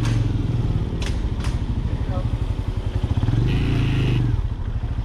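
A Benelli Imperiale 400 motorcycle rides along with a loud, close, steady engine drone and thumping rhythm, with wind rush and a few clatters over it.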